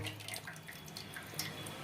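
Quiet trickling and dripping of cold water being poured into a pot of little millet noodles, light splashes scattered over a soft, steady flow.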